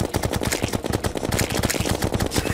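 Rapid automatic gunfire from a gun in the video game Terraria rattles loudly and continuously, with dense, evenly spaced shots and no voices.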